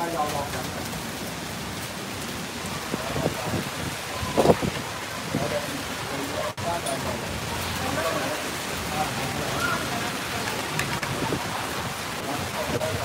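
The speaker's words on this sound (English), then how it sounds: "This rain coming down, look." Steady rain falls in a continuous broad hiss, with a few louder thumps and gusts near the microphone.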